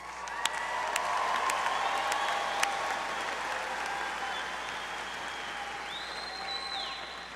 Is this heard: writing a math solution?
no